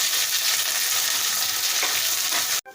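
Curry leaves fry in a pan of oil for wheat rava and ragi upma, a loud, steady crackling sizzle that runs without pause, then cuts off abruptly near the end.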